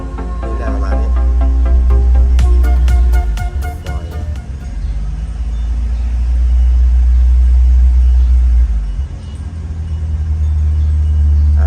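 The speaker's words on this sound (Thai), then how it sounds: "มาดูเคสอาการตอนนี้ทาทาเร่งไม่ขึ้นนะ อาการก็จะประมาณนี้นะฮะ" A Tata CNG truck engine with a faulty throttle butterfly valve revs in several rising and falling pulls. The close, loud drone swells and sags without building up speed.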